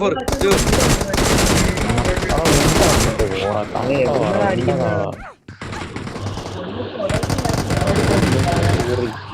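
M4 rifle fire in the mobile shooter BGMI, loud rapid automatic bursts that crackle almost continuously, with a short lull midway before another sustained volley, voices faintly mixed in underneath.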